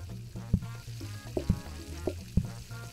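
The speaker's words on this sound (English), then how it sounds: "Sizzling." Food frying in the PlateUp kitchen game sizzles steadily, with a few sharp clanks and utensil knocks at irregular intervals, and no speech.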